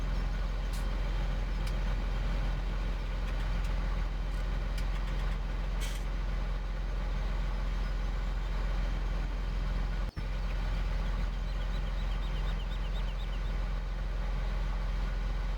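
Tractor engine in Farming Simulator 2017, a steady low droning idle-like rumble running continuously at even loudness, with a brief click partway through and no talking.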